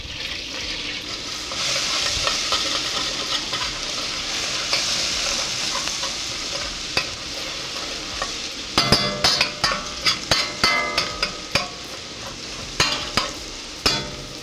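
Garlic fries in a pan with a steady loud sizzle, then a spoon stirs it, adding a series of sharp scraping knocks against the pan over the continuing hiss.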